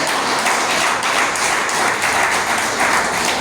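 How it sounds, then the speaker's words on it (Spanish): A church congregation breaks into loud, dense, continuous applause that stays at an even level from start to finish. "¿Cuánto damos aplauso al Señor cuando habla así?"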